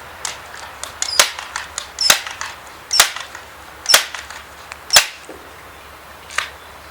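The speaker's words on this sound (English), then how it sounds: "shoot 5 rounds into this target" A Crosman M4-177 multi-pump .177 pellet air rifle fires loud, sharp cracks, about five evenly spaced shots roughly a second apart, with smaller clicks between them and no talking.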